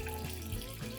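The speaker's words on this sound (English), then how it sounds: "Add 500 milliliters of hot water and steep it for 5 minutes." Hot water streams into a clean glass cup holding a tea bag, a short steady pour heard up close with no voices.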